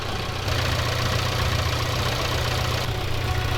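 A 1.8-litre Peugeot petrol car engine idles close by, a constant low rumble with an even mechanical hum that holds without change throughout.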